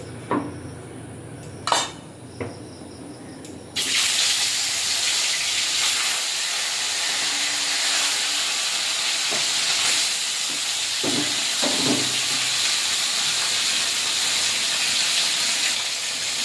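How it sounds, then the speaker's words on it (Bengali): Prawns hitting hot oil in a wok set off a sudden loud hissing sizzle that runs on steadily, after a few quiet clinks of utensils and with scattered metal scrapes on top. "কড়াইটা গরম হয়ে গেছে, কড়াইতে তেল দিয়ে দিয়েছি। এবারে মাছগুলো ভেজে নেব।"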